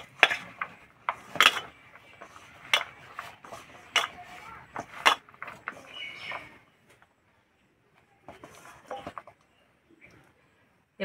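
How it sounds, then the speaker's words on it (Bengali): Jackfruit seed paste being kneaded by hand in a bowl, giving soft irregular squelching and slapping pats close up, busier at first and then sparser with a short pause. "এবার হাত দিয়ে একটু ভালো করে মেখে নেব।"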